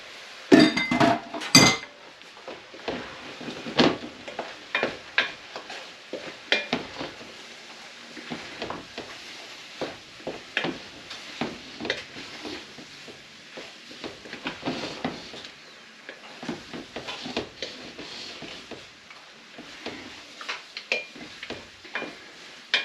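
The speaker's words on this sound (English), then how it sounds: "In goes our butter along with the bowl. And the flour." Butter and flour cook in a pan for a ramen ground beef stroganoff, with soft sizzling under frequent clinks and scrapes of a utensil against the pan, close and fairly quiet.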